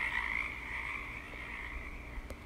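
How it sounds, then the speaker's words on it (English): A frog croaks in a steady, sustained rasping drone, close and fairly loud, alone without talk. "Freg the Frog."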